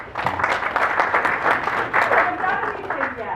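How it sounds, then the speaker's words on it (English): An audience at a volunteer and committee leadership orientation day claps together in a steady, dense round of applause that holds for a few seconds at moderate loudness, with no talk over it. "Applaud."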